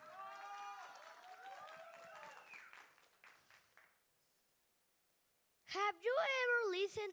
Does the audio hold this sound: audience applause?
yes